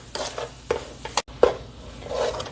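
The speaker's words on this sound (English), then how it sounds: "I'm going to keep stirring because coconut can stick to the bottom of the pan" A spatula stirs and scrapes coconut barfi mixture in a non-stick pan, a few distinct close scrapes and knocks over a soft low sizzle, with no voices.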